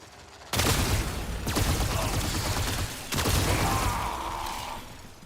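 Sustained gunfire in a video game, aimed at an override switch: two long bursts of rapid shots, loud and close, with a brief break between them.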